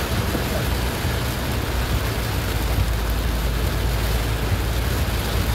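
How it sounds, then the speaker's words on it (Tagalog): Heavy rain pours down in San Jose del Monte, Bulacan, a steady, dense hiss with a low rumble underneath that stays constant and loud throughout, with no voices. "Maulan po talaga dito."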